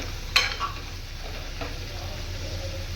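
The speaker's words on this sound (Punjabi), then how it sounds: "ਹੁਣ ਮੈਂ ਇੱਧਰ ਕਰ ਰਹੀ ਹਾਂ ਆਲੂਆਂ ਨੂੰ ਫਰਾਈ" Potatoes fry in a kitchen pan with a soft, steady sizzle, opening with a sharp clatter and a couple of light stirring knocks.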